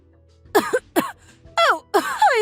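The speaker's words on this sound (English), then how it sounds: "Why are you coughing?" Several short, harsh coughs and throat-clearing bursts from a person, close and fairly loud, coming in separate bursts.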